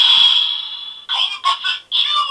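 A DX Ryu Tsueder transforming toy gun from Uchu Sentai Kyuranger plays a bright electronic tone, then a short burst of its chopped, synthesized voice audio, heard close and clear.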